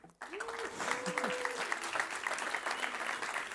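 An event crowd in a ring-style competition applauds and cheers for the red corner, a sustained wash of clapping with voices rising over it, and a whistle-like tone near the start.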